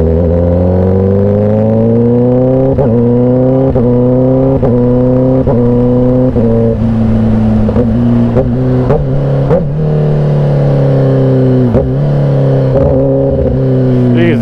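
A loud trail sport motorcycle engine revs hard and close, running through repeated rising gear-like sweeps with brief drops between pulls, sustained and alone.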